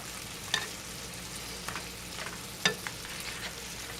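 Liver fries in a pan with a steady, soft sizzle while a utensil separates the pieces, adding a couple of brief scraping clicks close by.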